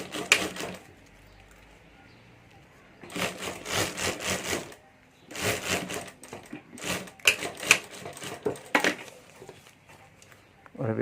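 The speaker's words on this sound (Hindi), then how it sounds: "तो यहाँ ऊपर मैं सिलाई कर देता हूँ और ये पॉकेट यहाँ मैं जोड़ देता हूँ।" A sewing machine stitches a pocket onto a hand bag in two bursts of rapid, even clattering stitches separated by short quiet pauses.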